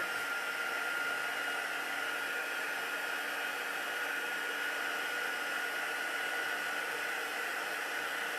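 An embossing heat tool blows a steady, loud, even whoosh like a hair dryer while melting embossing powder, holding without a break from start to finish and with no talk over it.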